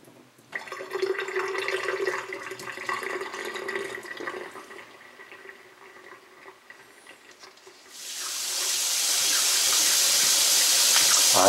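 Liquid melted ice cream is poured into a sink, a wet splashing and trickling that gives way to a loud, steady rush of running water near the end, with no talking.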